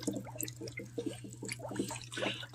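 Faint, close gurgling and dripping from water bubbling in a tank, with a string of small wet pops over a constant low electrical hum.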